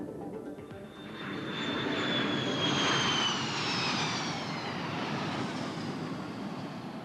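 A thirty-year-old B-52 Stratofortress bomber flies past with a loud jet engine roar and a high whine, swelling as it nears and then holding a broad rumble.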